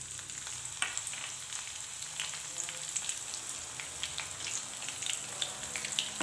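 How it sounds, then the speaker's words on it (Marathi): Green chillies and cumin seeds frying in hot oil, giving a continuous crackling sizzle with fine popping and spattering throughout, close and moderately loud. "मिरच्या छान अशा तेलामध्ये परतून घ्यायच्या आहेत।"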